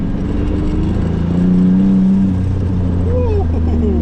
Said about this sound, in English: The first time I drive it with the full exhaust, and it sounds so much better, to be honest.